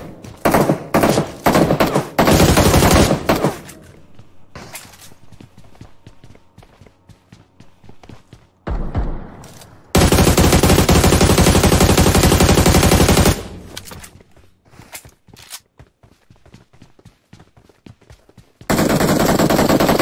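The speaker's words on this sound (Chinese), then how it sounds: "就是枪声" Automatic gunfire from the mobile shooter Game for Peace rattles in loud, dense bursts that come and go, with quieter single shots and footsteps between the volleys.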